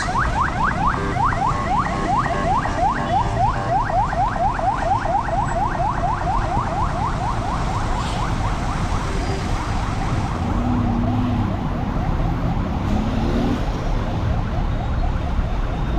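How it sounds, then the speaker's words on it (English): An ambulance siren passes on a road under construction, its rapid warbling wail fairly steady through the first half and then fading, over a constant rumble of traffic and machinery. "That's an ambulance."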